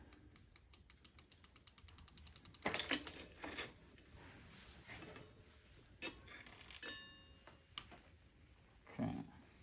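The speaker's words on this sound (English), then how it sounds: "Let's get this chain pulled out, get the new one on." Bicycle chain being pulled out of an e-bike's Bafang BBS02 mid-drive during a chain swap, a quiet run of rapid ratcheting clicks followed by scattered metallic rattles and clinks.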